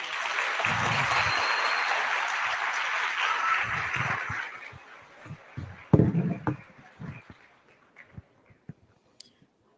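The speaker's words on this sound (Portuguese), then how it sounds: "Mais palmas para ela." An audience applauds at a Brazilian talk show, a dense close round of clapping that swells, then thins into scattered claps and fades to isolated taps, with soft murmuring underneath.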